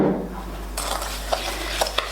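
Salt body scrub stirred in a bowl, a steady gritty scraping with a few sharper clinks of the utensil against the bowl, close and continuous.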